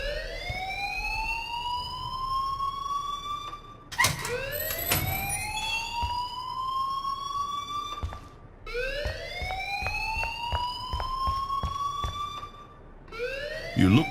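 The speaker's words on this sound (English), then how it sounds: "please turn off that alarm since that's your job" An alarm in the Life is Strange video game wails in loud rising sweeps, each lasting about four seconds and repeating steadily. Short gaps between cycles carry clatter and brief background sounds.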